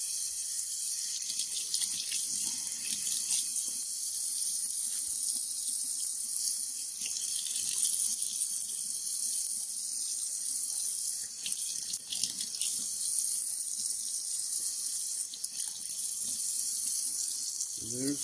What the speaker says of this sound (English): Rinse well.